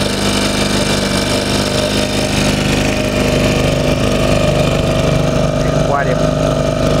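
A Suzuki DT 2.2 outboard boat motor on a lake, held at low throttle, gives a loud, close, steady droning hum with no breaks, and a brief rising tone near the end.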